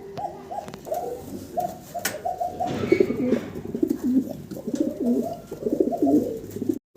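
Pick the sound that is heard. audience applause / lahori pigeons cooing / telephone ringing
lahori pigeons cooing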